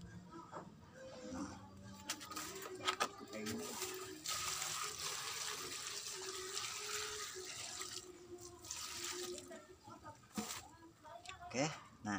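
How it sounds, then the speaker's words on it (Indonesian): Water is poured from a container onto stored bonsai cuttings of dollar vine (rambat dolar), a running splash and trickle near the microphone, with voices talking over parts of it. "Ini langsung aja kita siram ke situ"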